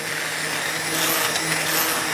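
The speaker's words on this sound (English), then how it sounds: "this is where I use the immersion blender, and it makes making sauce really, really simple" An immersion blender runs steadily in a pot of boiling tomato sauce made from heirloom tomatoes, a continuous close whir with a faint drifting tone.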